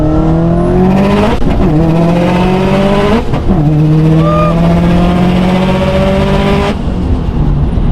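A small RC car with a stock electric motor screams up through its gears down a straightaway, a loud, close, high whine that climbs in pitch, drops briefly twice as it shifts, then keeps climbing.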